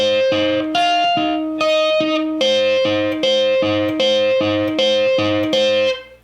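A distorted electric guitar plays a repeating riff of short picked notes in a steady rhythm, loud and upfront, ending with a brief fade.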